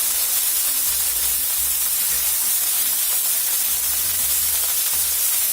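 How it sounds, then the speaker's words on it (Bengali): Fish frying in oil during preparation of a Bengali potato-and-fish dish, giving a steady, close hiss and sizzle throughout with no talking. "কিছু তেল দিয়ে দিলাম মাছ ভাজার মধ্যে।"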